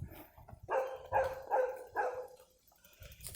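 A dog barks in a short series of about four to five loud, close calls, evenly spaced, with a brief whine-like tail, alone without talk.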